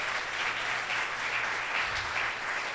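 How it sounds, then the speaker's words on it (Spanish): A church congregation gives loud applause to the Lord during a sermon, a steady wash of many hands clapping at moderate distance with no voices over it. "Dale un fuerte aplauso al Señor por eso."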